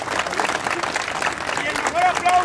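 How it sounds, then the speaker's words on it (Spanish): A crowd claps at an outdoor clown show with races in a park, a brief, moderately loud burst of applause heard with voices and a whistle-like tone near the end. "Dale un fuerte aplauso para las producciones de Noam."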